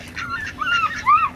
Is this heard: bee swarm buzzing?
no